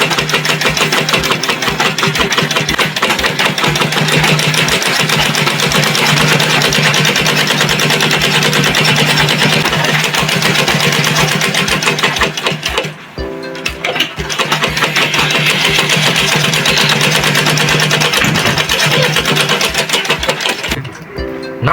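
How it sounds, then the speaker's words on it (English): Sewing machine stitching a fabric tote bag, running loud and steady in a fast continuous rhythm, with a brief pause partway through before it resumes. "The next thing is for us to stitch it this way, straight down."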